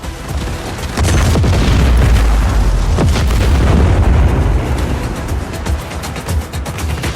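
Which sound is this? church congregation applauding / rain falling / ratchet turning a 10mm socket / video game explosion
video game explosion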